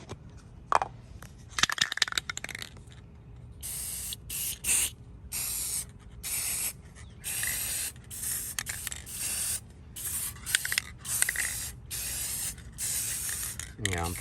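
An aerosol can sprays clear coat onto sanded, rusty steel tool cart parts and washers in a workshop, giving quiet repeated hissing bursts with short gaps and faint handling clicks as the can runs nearly empty.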